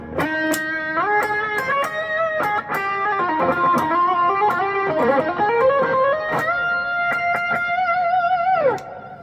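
A sustained electric guitar solo processed through a BOSS ME-70 multi-effects unit into an amp, with bending, gliding notes and a thick effected tone, played alone and loud for about nine seconds.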